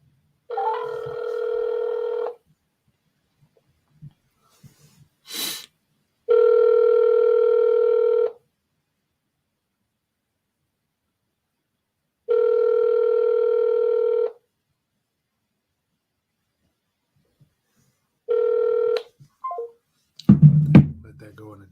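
A phone line rings out during a cold call, four long even ring tones separated by silent gaps, with a brief click between and a clatter as the call ends.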